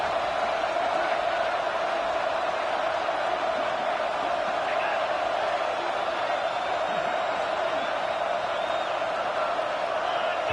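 Loud, steady roar of a football stadium crowd, a dense wash of cheering and whooping that holds without a break under a broadcast, pressuring the offense into a false start.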